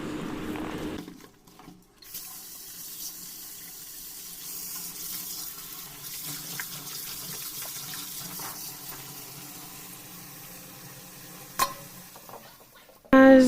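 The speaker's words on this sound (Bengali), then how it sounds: "মাছগুলো লবণ দিয়ে ধুয়ে নিব, নাহলে মাছের একটা গন্ধ থেকে যায়।" Fresh fish being washed with salt under a running kitchen tap, a steady close splash and trickle of water with handling noises, ending in a few louder knocks.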